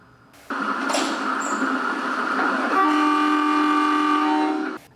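A train rumbles past close by with a steady roar, then its horn blares in a long, loud, sustained blast over the passing cars.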